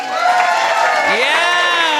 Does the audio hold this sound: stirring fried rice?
no